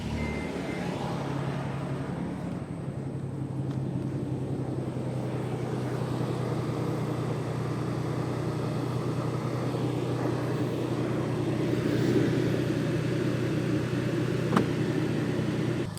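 Car engine idling steadily to inflate an exhaust jack bag, a constant low hum with a slight swell near the end and no talk.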